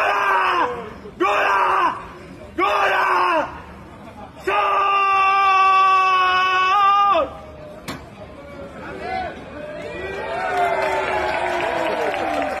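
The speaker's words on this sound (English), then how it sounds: "he let out that insane war cry" A man yells a wild war cry: three short shouted bursts, then a long sustained, strained roar, followed by quieter, rougher vocal noise.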